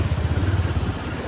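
A motorcycle engine runs close by in a steady, pulsing chug on a mountain road trip from Chitwan toward Manang, carrying on alone for a brief stretch.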